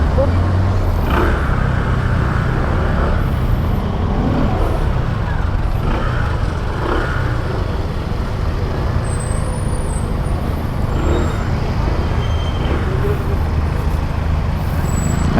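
Steady roadway traffic noise from cars, trucks and buses, with a continuous low rumble of passing vehicles and an occasional high brake hiss, close and loud throughout, with talk in the background.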